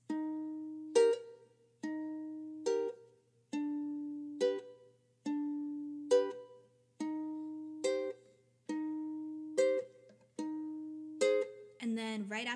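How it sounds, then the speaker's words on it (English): A ukulele plays the intro pattern of a song using chords: plucked chord tones repeat in a steady cycle, each phrase ending in a short muted chunk, with a final strum at the end, played close and alone. "So with the chords, it should sound like this."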